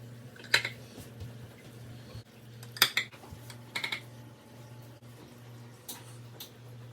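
A knife slices rolled beef pinwheels on a kitchen board, giving a few sharp, sparse clicks and clacks of metal over a low steady hum, quiet and close.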